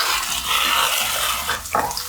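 Slit green chillies softening in hot oil give off a continuous soft sizzle and bubbling hiss, close up, with a small clink near the end.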